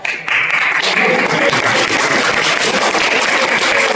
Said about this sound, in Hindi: इसके लिए तालियां।